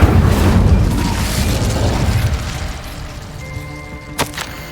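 A loud, deep blast from the Incendio fire spell in Hogwarts Legacy opens with a rumbling burst and fades into a crackling tail, ending in a short sharp pop.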